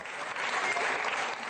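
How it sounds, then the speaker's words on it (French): Warm, steady applause from a mostly female audience greeting a political candidate at a campaign event, a dense unbroken patter of many hands clapping. "Chaleureusement applaudi, Gaël Yanou."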